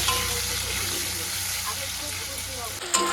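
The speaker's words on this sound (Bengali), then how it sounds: "বৃষ্টি চালু হয়ে গেছে সকাল সকাল, দেখো" Morning rain falls with a steady, dense hiss close by, and a voice speaks briefly over it.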